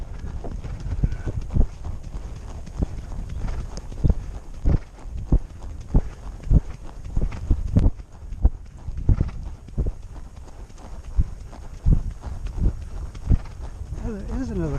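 Horse hooves clip-clop in a steady walking rhythm on a hard surface, close and clear, while people talk over them.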